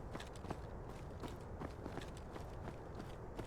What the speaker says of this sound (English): he hears the footsteps getting closer